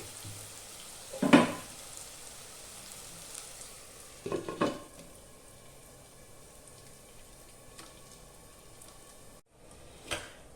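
Onions for a mango fish curry sizzle quietly over high flame, with a few distinct bursts of stirring and scraping in the pan, and no voice.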